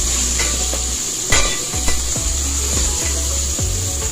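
Vegetables including beans sizzling and frying in a pan for veg biryani, stirred with a spoon that scrapes and knocks in irregular strokes over a constant crackling hiss.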